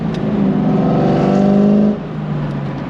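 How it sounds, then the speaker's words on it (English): Car engine blipping during a downshift, a loud close rev that rises and holds for under two seconds, then drops back to a lower steady drone. "I did not need to do that, but hey, a downshift is a downshift."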